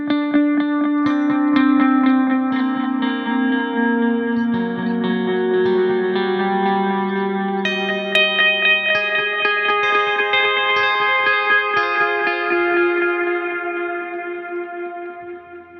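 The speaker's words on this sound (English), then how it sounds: "you'll hear when the auto swell comes in that it doesn't matter too much" Swelling guitar notes from an Axe-Fx auto swell patch fade in softly without a pick attack, washed in long multi-delay repeats and lush reverb. The layered chords drift and slowly die away.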